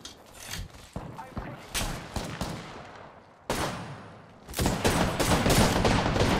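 Gunfire in the video game Apex Legends comes as rapid bursts of sharp shots, starting sparse, then a short lull, then dense sustained firing. Players talk over the shooting.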